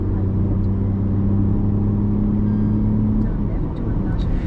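Tata Tiago i-CNG AMT hatchback engine humming steadily at close range with a low, even drone and a held tone that drops away after about three seconds, heard inside the car.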